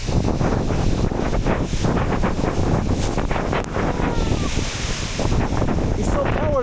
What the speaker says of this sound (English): Wow, it's so windy here.